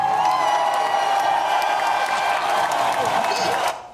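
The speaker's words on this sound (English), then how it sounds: "Let's give Jose a clap for that, y'all." A small crowd claps and cheers for a man named Jose. The dense applause and whoops carry steadily, then cut off abruptly at the end.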